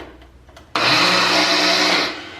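A kitchen appliance pulsing oats into an instant oatmeal mix, starting abruptly after a few faint knocks into a loud, steady whirring grind that runs about a second and a half, then cuts off.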